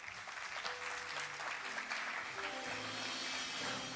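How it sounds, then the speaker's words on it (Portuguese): Faint, steady applause from a church audience, a continuous soft patter of clapping heard from a distance, with a sustained organ-like tone underneath. "Vamos aplaudir Jesus pela vida de vocês."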